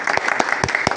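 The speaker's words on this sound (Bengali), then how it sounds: "সবাই হাততালি দিন।" A small crowd of people claps hands in a quick, brief round of applause, several sharp, close claps following each other in a fairly regular rhythm.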